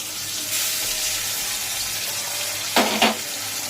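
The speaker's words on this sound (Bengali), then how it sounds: "কাঁচা লঙ্কা দিয়ে একটু ভাজা ভাজা করে" Green chillies and bay leaf fry in hot oil in a pan, a steady broadband sizzle with two short louder bursts of spatter near the end.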